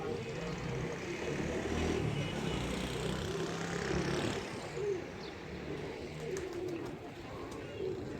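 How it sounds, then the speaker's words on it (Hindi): Pigeons on a rooftop coo in low, continuous murmurs, soft and somewhat distant, with faint bird chirps and a hint of passing traffic in the background. "अभी ऊपर और भी कबूतर हैं।"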